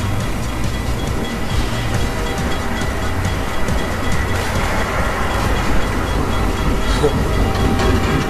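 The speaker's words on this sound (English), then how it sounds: "Oh! Train!" A train in the video game Half-Life 2 rumbles past loudly and continuously with a rolling, clattering texture, while a person's voice is briefly present.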